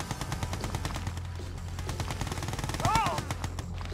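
Machine-gun fire from the Red Alert 2: Yuri's Revenge strategy game rattles in a dense, continuous stream, with a whining effect near the end, loud and sustained over the battle noise.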